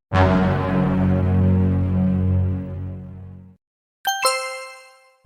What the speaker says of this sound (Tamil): மெசேஜ் வந்த போல சத்தம் கேக்குது.